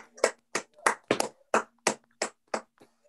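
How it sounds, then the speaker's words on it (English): A small group claps for guests at a teen program on native species conservation in Colorado, with about nine distinct, close, evenly spaced claps against otherwise quiet room tone. "let's give Dan and all of our guests a round of applause"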